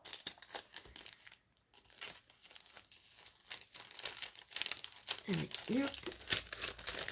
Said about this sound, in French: Je referme la pochette.